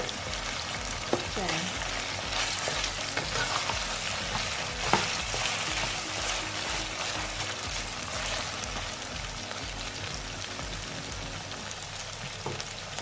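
Honey-glazed pork ribs fry in a metal pan and get turned over, giving a constant close sizzle with occasional scraping and clatter. A voice talks faintly beneath it.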